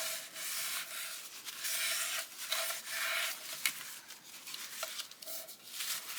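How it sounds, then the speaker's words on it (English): Paper envelope edges burnished down by hand while making an envelope journal, a steady close-up rubbing and scraping that comes in repeated strokes, with faint taps between. "close your envelope up and burnish those edges down"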